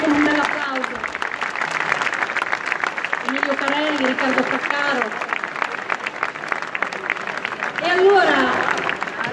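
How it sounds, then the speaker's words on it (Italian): Applause rises for Luigi Di Maio and fellow politicians arriving at an M5S event in Ancona. Someone speaks over the crowd's clapping, announcing names throughout, so the applause stays partly masked beneath his voice. "intanto li accogliamo con un bel applauso"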